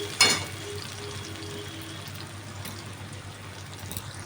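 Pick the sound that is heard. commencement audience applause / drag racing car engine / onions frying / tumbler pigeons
onions frying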